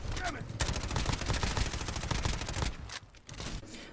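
Rapid automatic gunfire from an MP5 submachine gun mod in the video game Fallout 4: dense, loud bursts of shots that run almost continuously before a brief pause and a final short volley.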